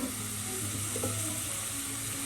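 Chopped bitter gourd lands in a hot pan and sizzles in steady, close frying with faint stirring scrapes under the hiss, no voice.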